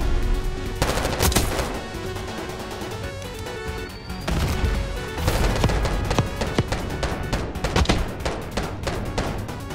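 Dense video game gunfire from Call of Duty Black Ops 6, with rapid automatic bursts and sharp crashing blasts running nearly nonstop and loud, with no talk in the clip.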